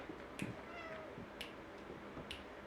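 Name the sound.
cat meowing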